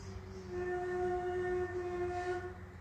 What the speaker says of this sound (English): If I were to play an F natural on traverso